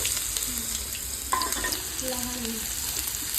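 Garlic paste fries in a pan with a constant close sizzle and hiss, a light stir or scrape cutting in partway through, and a few faint tonal squeaks in the background, no clear talking.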